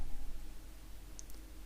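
Scissors snip fly-tying thread at a bench while a feathered treble hook topwater bait is being tied, giving a single faint click near the end over quiet room hiss.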